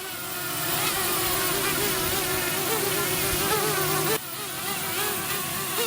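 A small quadcopter on its maiden flight hovers close by with a loud continuous high buzzing whine from its rotors, pitch wavering as it wobbles, dropping slightly in level near the end.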